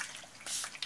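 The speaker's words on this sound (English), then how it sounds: "I'm gonna actually spray it with water" A single short hiss of water is sprayed onto a page of paper being worked with alcohol inks, faint and close, with a small drip-like tick just after.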